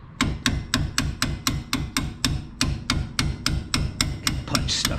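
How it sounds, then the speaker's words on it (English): A hammer strikes a punch to drive a bolt out of the strut mount on a 2013 Jeep Grand Cherokee, with about twenty sharp metallic taps in a quick, steady rhythm, close and clear. "And let's tap this bolt out."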